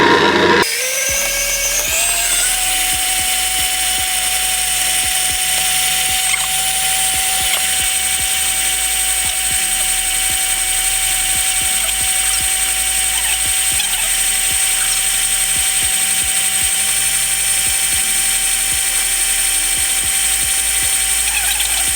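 An electric mixer starts up and beats cookie dough for New York Levain-style cookies, holding a steady, close motor whine for the rest of the clip with no talking.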